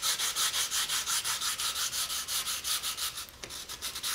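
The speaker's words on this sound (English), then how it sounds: "That way we can sand out the pattern from the mold and not actually sand into the carbon fiber itself." Sandpaper worked back and forth over a thin fiberglass layer on a carbon fiber RC plane landing gear leg: steady rhythmic rasping strokes, close and moderately quiet, about five per second, with no talk.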